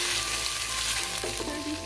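Chicken feet fry in a pan for adobo, giving a loud, steady crackling sizzle that runs unbroken throughout, with a faint stir or shift in the pan near the end.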